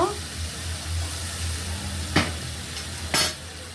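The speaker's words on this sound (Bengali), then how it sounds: "মশলাটা একটু কষানো হোক" Ground coriander, cumin, turmeric and chili powder fry in a pan with a splash of hot water, hissing softly and continuously while two brief, sharp stirring scrapes cut through; a voice speaks at the very start.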